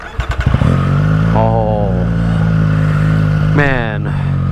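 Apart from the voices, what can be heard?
Triumph Street Triple RS motorcycle with LeoVince exhaust starting, revving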